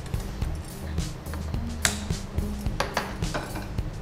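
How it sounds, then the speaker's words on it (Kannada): A metal frying pan (kadai) set down on a stove for cooking gives a series of close, sharp clanks and scrapes in an irregular rhythm, with no talking. "ಫಸ್ಟ್ ಬಣಲೆ ಇಟ್ಕೊಂಡು"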